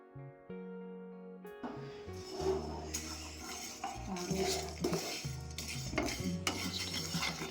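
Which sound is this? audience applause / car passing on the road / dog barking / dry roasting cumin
dry roasting cumin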